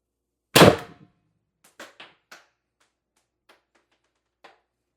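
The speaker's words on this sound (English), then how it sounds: "that was a lot of CO2 coming out of the end of there" A TR50 Torpedo CO2 air gun fires a single sharp, close shot, with a quick hiss of escaping gas that fades fast. A few faint clicks and taps follow in the quiet afterward.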